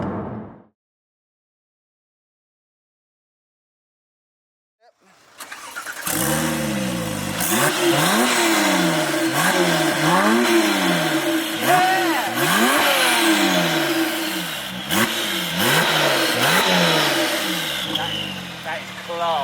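A Porsche 997 Turbo with lowered suspension and a custom exhaust starts after a brief silence, then revs repeatedly in rising and falling sweeps, loud and close, with voices talking over it.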